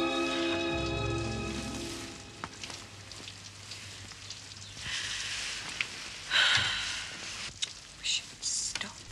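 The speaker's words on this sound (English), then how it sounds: "And why can't it stop raining?" Steady rain patters on surfaces around a farm, a continuous close hiss beneath a faint tonal hum early on, with a few louder splashes and rustles toward the end.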